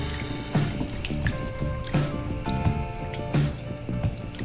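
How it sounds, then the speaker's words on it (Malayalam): Chicken livers are washed in milk by hand, making soft wet squishing and sloshing sounds in a repeating rhythm, close and moderately loud. "കുറച്ച് പാലൊഴിച്ച് നന്നായി വാഷ് ചെയ്യുന്നത് നല്ലതാണ്"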